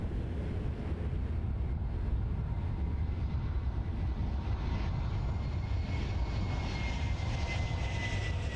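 A jet airliner at Toronto Pearson Airport gives a loud, steady engine roar that holds throughout, with a thin whine rising toward the end and no voices.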